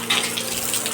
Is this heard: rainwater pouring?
yes